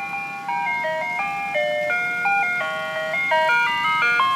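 An ice cream truck on the street plays its jingle, a bright, steady electronic melody of distinct notes that carries on without pause, fairly loud and clear, with no talking.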